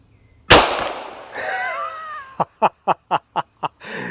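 A single sharp, loud pistol shot rings out up close at an outdoor 7-yard range, fired from an RM1C-footprint pistol carrying an Olight Osight red dot, then fades before an excited voice whoops in short bursts.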